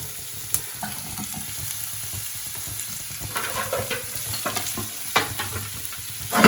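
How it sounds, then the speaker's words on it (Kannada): Capsicum frying in a pan for paneer manchurian, a steady close sizzle with scattered scraping stir clicks that grow busier toward the end, no voices. "ಇದನ್ನ ಫ್ರೈ ಮಾಡ್ಕೊಳ್ಳಿ"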